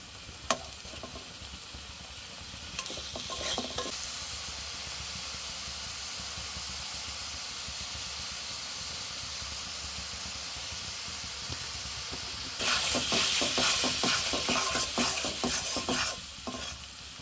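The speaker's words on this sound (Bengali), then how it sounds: "সব কিছু একসাথে দেওয়ার পর ভালো করে নাড়াচাড়া দিয়ে কষিয়ে নেব এটাকে" Chilli, turmeric and coriander powders are sautéed and stirred in a pan for a prawn curry, a continuous soft sizzle punctuated by scraping stirs, which swell louder in bursts near the start and toward the end.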